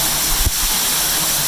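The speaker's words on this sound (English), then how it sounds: "This is our little waterfall." Steady rushing water roars continuously inside a storm drain, a small cascade splashing nearby with a broad hiss filling the space, briefly punctuated by a low thump.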